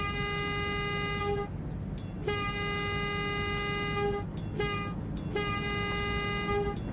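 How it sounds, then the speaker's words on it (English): A diesel train horn in a Sacramento Northern train simulation sounds three long blasts with short gaps between them, loud and steady over a low engine rumble, with no talking. "Probably should have done the full honks before I moved, really, given I was already in the crossing."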